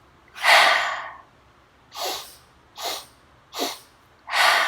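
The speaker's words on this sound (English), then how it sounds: "it's 3 short inhales through the nose, 1 active exhale through the mouth" Yoga breath work: a long forceful breath, then three short sharp sniffs through the nose, then another strong exhale, close and clear with no talking.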